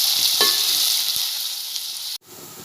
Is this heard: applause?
no